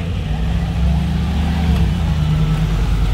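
A supercar drives past on a wet Monaco street in the rain, its engine a loud, steady low rumble that swells slightly as it passes close by, with the hiss of tyres on the wet road underneath.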